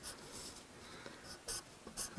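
A pen writes on a Valentine's card in short, soft scratchy strokes, quiet and close, with brief pauses between letters.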